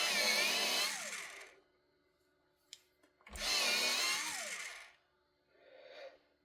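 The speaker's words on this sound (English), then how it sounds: "a quick sharpen." A Prismacolor colored pencil in black raspberry is sharpened in two loud, whirring bursts of what sounds like an electric sharpener, separated by a quiet pause and followed by a fainter short whir.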